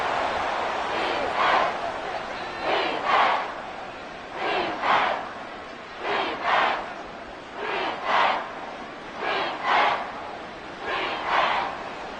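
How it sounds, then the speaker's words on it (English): Stadium crowd in Madden NFL 24 during a Rams versus Texans preseason game, a steady roar that swells into repeated rhythmic chanting bursts roughly every second and a half, loud and sustained with no talk over it. "this crowd trying to force a false start here"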